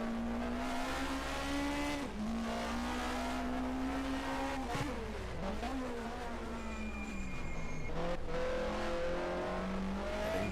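Onboard sound of a turbocharged 1980 Division 2 touring race car engine at an airfield circuit, loud and continuous, with revs rising and falling through gear changes and corners and a brief dip near the middle.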